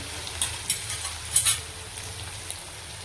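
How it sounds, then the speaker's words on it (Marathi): Ginger garlic paste hits hot oil with crackling mustard seeds and cumin, giving a faint steady sizzle with a few sharp pops close by. "तर अद्रक लसूणची पेस्ट आहे ना ती टाकणार आहे, थोडी जास्ती टाकते मी"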